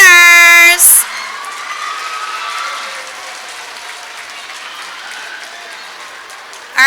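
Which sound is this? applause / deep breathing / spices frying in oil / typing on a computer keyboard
applause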